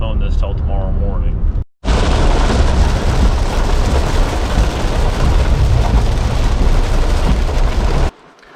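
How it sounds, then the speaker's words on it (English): Heavy rain pours down steadily in a loud, dense hiss after a short pause, continuing unbroken for several seconds before cutting off. "Well, it's still raining right now,"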